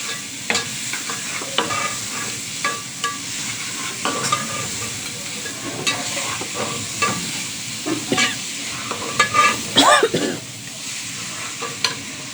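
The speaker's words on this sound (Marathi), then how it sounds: "त्याच्यानंतर बारीक चिरलेला कांदा घालायचा। पुन्हा व्यवस्थित हलवून घ्यायचं आहे।" Finely chopped onion fries in a pan while being stirred, a steady sizzle with frequent scraping and clattering spoon strokes close by, growing busier toward the end.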